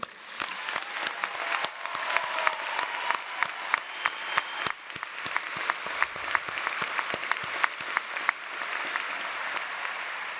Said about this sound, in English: So please give your students a round of applause for those around you.